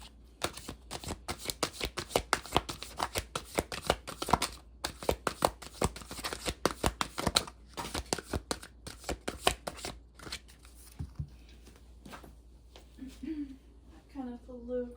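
Oracle cards from an Empath's Oracle deck shuffled by hand, a long run of quick crisp riffling snaps and flutters, near and fairly loud, easing off toward the end as a faint voice comes in.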